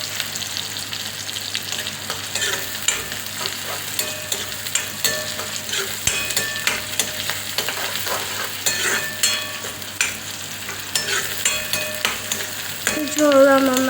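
Chopped onions sizzle and fry steadily in a pan while a spoon stirs them, with scraping clinks recurring throughout; near and continuous, no talking.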